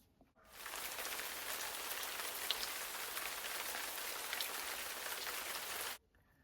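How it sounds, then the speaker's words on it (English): Steady rain patters on a surface outside, a dense continuous hiss that begins abruptly, holds even for several seconds, then cuts off, with no voices. "Wind and rain."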